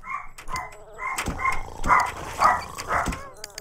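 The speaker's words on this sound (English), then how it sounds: "My other dog's barking, guys." Dogs in The Sims bark in repeated yapping bursts at a moderate distance, alternating with whimpery yips, while someone talks over them.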